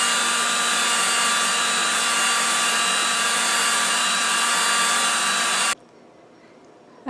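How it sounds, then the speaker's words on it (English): Battery-operated drill spinning a brush to clean a cookstove, a loud, steady high-pitched whir running for several seconds before it cuts off abruptly into quiet. "the battery operated drill did a fairly decent job"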